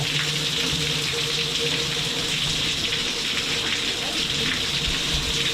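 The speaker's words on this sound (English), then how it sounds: "Cool little waterfall." Small waterfall at Devil's Well in the Ozark National Scenic Riverways, Missouri, a steady close rushing splash that holds an even, continuous roar throughout with no pauses.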